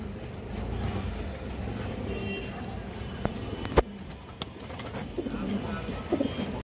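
Pigeons coo softly in low, repeated throaty calls, with rustling, wing flaps and a few sharp knocks nearby.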